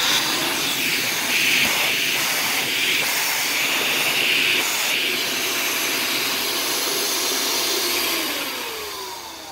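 A household vacuum cleaner runs steadily with a clogged hose and weak suction, its broad hissing whine continuous and fairly loud throughout before easing slightly at the end.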